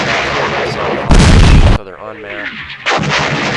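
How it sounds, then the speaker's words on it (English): Mortar fire in the Campaign Series West Front wargame, with loud booming bursts of impact and a dense rumble before a short pause and another burst, while someone talks over it. "Okay, some mortars."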